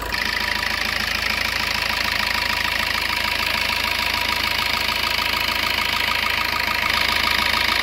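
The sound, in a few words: Suzuki Ertiga diesel hybrid engine idling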